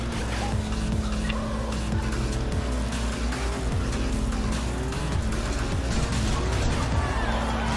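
Tires squeal continuously as a car drifts in the racing game Forza Horizon 2, over a loud, steady engine roar with shifting revs and no speech.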